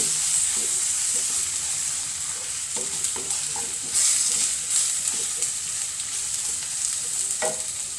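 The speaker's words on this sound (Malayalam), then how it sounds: "കുറച്ച് മല്ലിപ്പൊടി. നന്നായിട്ട് വഴറ്റി കൊടുക്കണേ." Coriander powder sautéed in a pan for a paneer butter masala gives a steady close sizzle with scattered scraping knocks from stirring, no voices.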